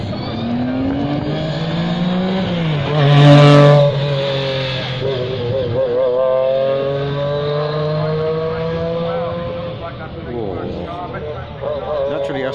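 A Metro 6R4 rally car's naturally aspirated V6 engine roars and revs hard nearby at a hill climb, pitch climbing and dropping through gear changes, with a voice briefly talking over it.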